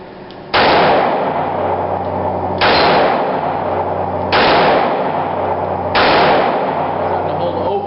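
Four loud, sharp reports from a Smith and Wesson .38 Military and Police Model 10 revolver fired outdoors at small targets, each shot followed by a long ringing decay, spaced about two seconds apart.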